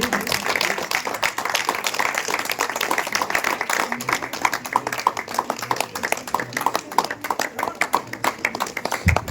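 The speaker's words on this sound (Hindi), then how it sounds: "जोरदार ताली।" Audience applause at a World Human Rights Day celebration honouring a child on stage, a dense, sustained patter of many hands clapping close by, lasting the whole stretch, with faint talk mixed in.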